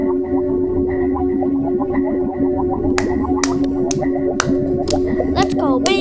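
Eerie recorded space sound attributed to a planet: a steady droning hum with warbling, echoing tones, joined midway by repeated sharp chirping pulses and rising sweeps, loud and continuous with no talking.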